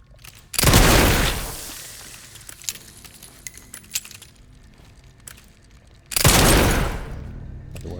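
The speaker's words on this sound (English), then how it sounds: "So I can shoot downwards." Gunfire aimed downward in the video game Resident Evil Requiem: two loud, sharp bursts of shots with metallic ringing tails, separated by a few seconds of quieter clinks and rattles.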